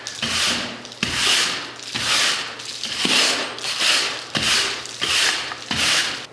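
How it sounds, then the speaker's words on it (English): Loose material is scraped off an old plaster wall in a Victorian house with repeated rough rasping strokes, about eight in a steady rhythm, each a gritty swipe. The scraping is close and loud with no voices. "I'm hearing a little bit of stuff coming off the wall."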